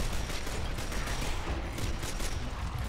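Rapid gunfire from a Gears of War Ultimate Edition multiplayer match, dense overlapping shots and game noise filling the whole stretch at steady loudness with no talk.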